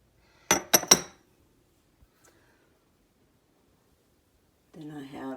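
Glass marbles clink together in a quick burst of three bright, close chinks, followed by a pause with faint ticks before a person starts talking.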